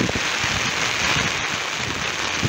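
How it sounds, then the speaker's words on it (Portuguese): Steady, dense heavy rain hisses broadly and evenly over a flooding city street, loud and close, with no voices. "É muita chuva, família."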